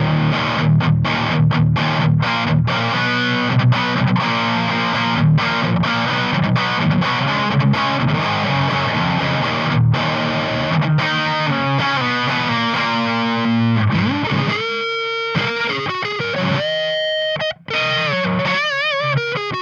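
Electric guitar played through a Boss JB-2 Angry Driver pedal in Angry Charlie mode gives loud, crunchy distorted chords and riffs, ending with sustained single notes and short gaps, with no talking.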